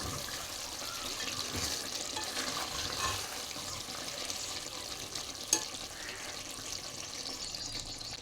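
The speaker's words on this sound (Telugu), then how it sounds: "ఒకసారి అయితే కలిపేసుకుందాం." Chicken and potato gravy curry simmers in a pan while a spoon stirs it, a soft bubbling sizzle with faint scraping and one brief clink, quiet and close.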